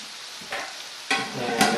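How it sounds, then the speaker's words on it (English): Two tablespoons of flour get stirred in a hot frying pan, giving soft scraping strokes over a faint sizzle, with two distinct stirring swishes close by. "cook for a minute or 2 while stirring occasionally."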